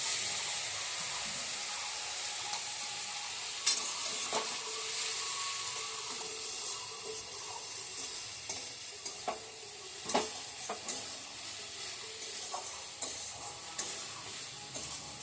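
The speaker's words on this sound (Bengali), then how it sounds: "এই যে মশলাটা কি সুন্দর কষা হয়ে গেছে, ভাজা ভাজা হয়ে গেছে পুরো মশলা" Ground cumin, coriander, chili and turmeric powder masala with a little water sizzling and being stirred in a pan, a steady hiss broken by scraping and clacking of a spatula, no talking.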